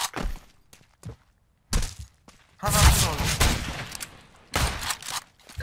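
Pistol gunfire in the video game Counter-Strike: several sharp shot bursts in short clusters, loud and close, spaced by quiet gaps, with a longer dense burst of fire in the middle.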